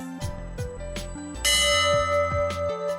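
The Abana Bell, a lifeboat memorial bell at the Church of St Andrew, Cleveleys, rings in several close, bright strikes with ringing tails, set against musical tones in a continuous backdrop.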